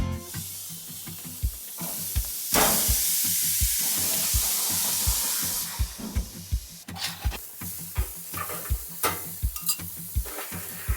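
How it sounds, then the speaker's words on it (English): Spicy venison bulgogi sizzling on a grill, a loud, hissing burst of steam and spatter that swells for a few seconds, then settles into crackling sizzle with repeated sharp clicks and scraping of stirring. "Today, I'm gonna be grilling it."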